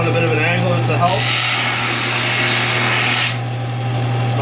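A molding sander with 120-grit paper runs on walnut or cherry trim, held by hand at an angle. It gives a loud, steady motor hum with a brighter, grinding sanding hiss while the paper is in contact, and a voice comes in briefly near the start.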